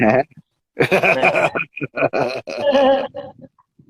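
A voice imitates a sheep's bleat up close: a few loud, wavering, throaty bursts over about three seconds with short gaps, then silence, during a casual cooking chat about meat and an upcoming butcher's lamb.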